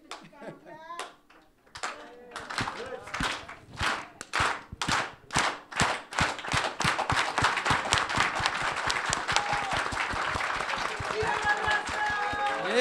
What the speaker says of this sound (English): So with all honor, I give you the Chicano clap.